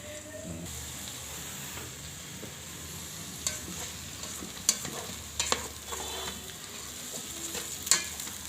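Egg and long thin eggplant fry inside a rice cooker pot with a continuous soft sizzle, punctuated by several sharp spoon scrapes and clinks toward the end.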